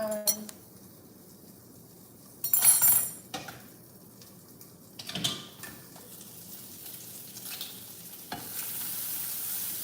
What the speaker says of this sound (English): Doing some turkey, bacon, turkey meatballs with eggs.